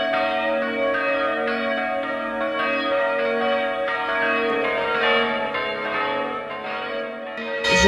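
Church bells peal for Easter in a dense, sustained wash of overlapping ringing tones that stays loud and steady throughout, with no voices.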